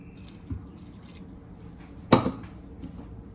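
Warm water poured into a bowl of bread dough mix with salt and yeast, a brief splash standing out over quiet kitchen background, close and fairly loud.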